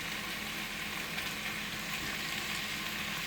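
Butter melting in a hot pan with rice and vegetables for vegetable pulao, giving a continuous bright sizzling hiss, steady and close with no talking.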